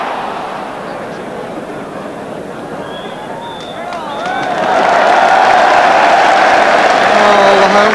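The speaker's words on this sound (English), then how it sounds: "Home crowd showing what they feel about the first 45 minutes" A home crowd at a Plymouth Argyle cup tie reacts at half-time, a broad roar of applause and cheering that swells midway and holds loud, with whistles rising above it.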